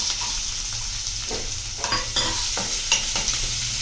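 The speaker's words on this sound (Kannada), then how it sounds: "ಇದನ್ನು ಸ್ವಲ್ಪ ಫ್ರೈ ಮಾಡ್ಕೊಳ್ಬೇಕು." Onion and curry leaves frying in a pan with oil after mustard seeds, a soft sizzle with clear stirring scrapes and clinks of a spoon, close and without speech.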